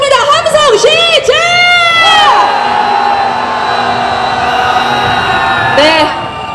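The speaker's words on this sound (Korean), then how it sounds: "함성 시작!" A crowd of street marchers cheers and shouts together at a protest procession, a loud burst of overlapping whoops and yells that swells for about two seconds, then settles into a sustained roar before one more rising shout near the end.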